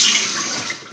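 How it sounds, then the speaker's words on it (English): Cold tap water runs steadily for a shave, a loud, close, continuous hiss and splash with no talking. "I like to use cold water for the rest of the shave"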